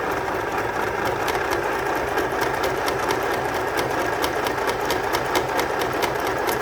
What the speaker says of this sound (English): So I found this little mini one, and yeah, it's perfect. Now I'm just doing a zigzag.